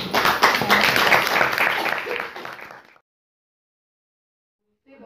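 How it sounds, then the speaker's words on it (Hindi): An audience claps loudly and steadily for two women at an informal gathering, a dense patter that runs about three seconds and stops abruptly, followed by silence and a faint voice at the very end. "इनके लिए जोरदार तालियां।"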